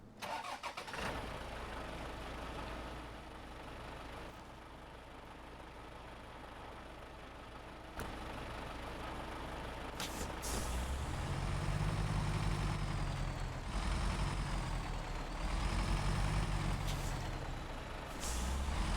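Heavy truck in the SnowRunner off-road game cranking and firing up, an air brake hissing, then the diesel engine rumbling loud and close as it pulls away, with rising and falling revs and no talking.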